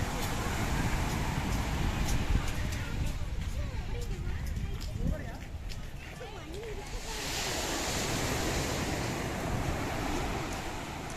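Surf breaking steadily at Kappad beach near Calicut, Kerala, a broad continuous wash with wind rumble on the microphone, while people talk over it throughout.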